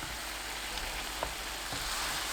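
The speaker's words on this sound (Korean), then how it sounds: "섞으면서 끓이다 보면 양념이 금방 바글바글 끓을 거예요" A sauce of oyster sauce and corn syrup bubbles over medium heat in a tilted pan, giving a steady soft sizzle and hiss with a few faint pops and stirring clinks.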